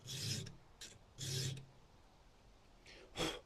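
A hand file sharpens the teeth of a Stihl chainsaw chain in short rasping strokes, two or three bursts of scraping separated by pauses, heard close up and moderately loud.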